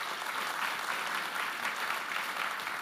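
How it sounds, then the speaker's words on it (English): A conference audience claps in sustained, dense applause, steady and fairly loud throughout, with no voices over it. "please give them a round of applause"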